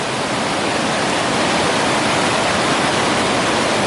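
Rushing creek water roars steadily and loudly up close, a dense unbroken wash of white-noise-like flow with no voices.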